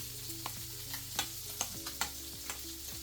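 Bluegill fish fry in a skillet, a faint continuous sizzle broken by a series of small crackling pops at irregular intervals.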